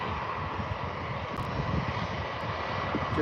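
Jet engines of a KLM airliner climbing away after takeoff from Birmingham Airport, a steady, broad roar held at an even level throughout, heard from the airport viewing park.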